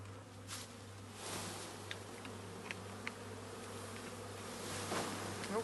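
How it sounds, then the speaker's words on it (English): A swarm of honeybees hums continuously, a soft, dense buzz close by, with a few faint ticks and taps scattered through it. "get all these bees in the swarm here, and the queen's in the middle somewhere"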